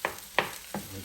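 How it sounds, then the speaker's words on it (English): Bacon fried rice stirred in a pan, three separate scraping strokes over a low sizzle, close and moderately quiet with no voices. "Stir like that."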